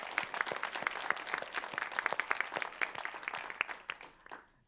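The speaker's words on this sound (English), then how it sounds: "please, to give another warm round of applause for both Susie and Enid." A small audience at a women's awards ceremony claps in a warm round of applause, sparse, distinct hand claps that build briefly, then thin out and fade away toward the end.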